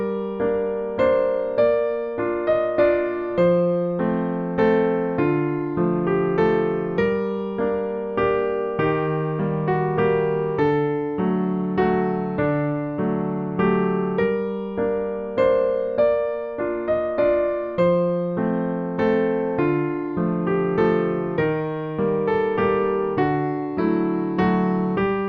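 Solo piano plays the opening phrase of Greensleeves as a steady lilting waltz, melody over a low accompaniment, close, clear and continuous for about twenty-five seconds with no talking.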